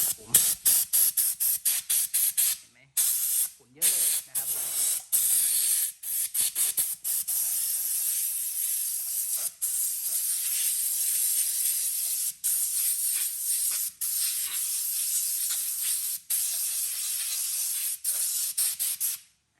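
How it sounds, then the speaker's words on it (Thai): Loud bursts of compressed air hiss sharply while blowing clean a GPX Drone 150 motorcycle during servicing, starting in quick short blasts and then becoming long, sustained blowing broken by brief pauses. "เดี๋ยวจะเอา ลมเป่าก่อนนะครับ"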